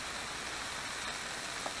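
Peeled, cubed zucchini cooking without added oil in a pan of wild duck vegetable ragout gives a steady, soft, continuous sizzle with no talk.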